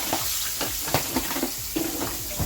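Fish fries in hot oil with a steady crackling sizzle, broken by a few brief scraping and tapping sounds of utensils near the pan.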